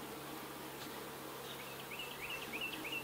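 Honey bees buzzing over an opened hive, a dense steady drone close by, with a few higher individual buzzes passing near the end and no voices.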